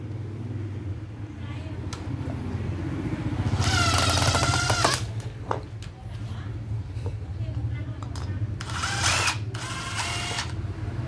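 A Dewalt cordless drill bores into wood, running in a few short bursts of whirring drive under a steady low hum, with someone talking in between.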